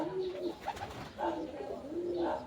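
Racing pigeons cooing softly in a loft, a few low rolling coos repeating close by over light background noise.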